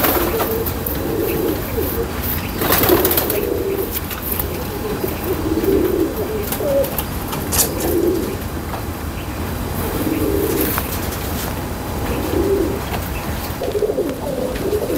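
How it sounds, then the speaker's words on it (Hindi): Pigeons, a teddy and golden highflyer pair, coo in repeated soft, throaty phrases every couple of seconds over a steady background hum, with a faint sharp clack now and then. "कमाल कमाल ही कबूतर है"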